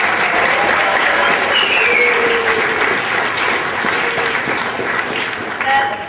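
Sustained audience clapping for school sports results, dense and fairly loud throughout, with a few faint voices and whistles mixed in.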